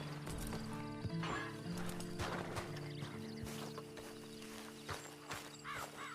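Horse hooves clip-clop at a steady walk in Red Dead Online over a constant background hum, with faint creaks and a brief whinny-like call.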